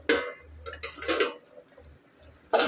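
A lid lifted off a pot of chicken cooking on the stove, sharp metallic clinks and clatters at the start and again at the end, close and fairly loud, with quiet gaps between.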